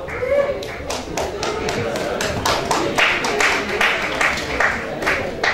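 Scattered applause from a table of guests at an African arts gala, a handful of people clapping in an uneven rhythm with sharp close claps, while voices murmur in the room.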